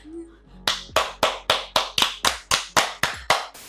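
Hands clap about a dozen times in a steady, even rhythm, sharp and close, after a brief quiet moment with a faint voice.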